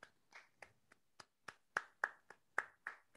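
Sparse, faint clapping from a small audience after an online academic lecture, about a dozen distinct slaps spaced unevenly over a few seconds in a quiet room.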